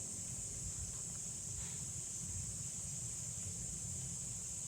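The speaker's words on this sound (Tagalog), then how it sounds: "Sobrang lakas kasi ng hangin ng pagganyan dito, kaya maririnig po natin na" Steady roar of strong wind buffeting the microphone, a constant low rumble with a hiss on top, loud and unbroken throughout.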